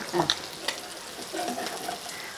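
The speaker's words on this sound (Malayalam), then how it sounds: "നമ്മുടെ മീൻ വറുത്തത് റെഡി ആയിട്ടുണ്ട്" Sardines fry in a pan with a soft crackling sizzle, broken by a few sharp metallic clinks and scrapes of a utensil at the start and middle.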